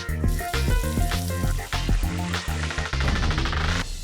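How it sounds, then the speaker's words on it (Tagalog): An empanada sizzles and crackles steadily in boiling oil, a loud, continuous frying hiss with bubbling pops throughout. "hulog po natin siya sa mantika na kumukulo"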